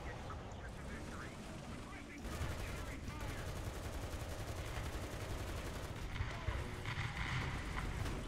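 Artillery fire in War Thunder during tank combat, a low continuous rumble of distant booms and gunfire that swells partway through and rolls on steadily, with a player talking over it.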